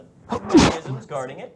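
A single close, sharp sneeze bursts out amid a tabletop role-playing game session, with people talking just before and after it.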